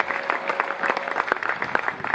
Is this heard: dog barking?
no